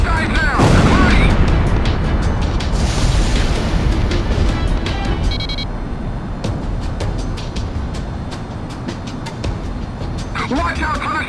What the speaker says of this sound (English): They're going to fire the shock cannon?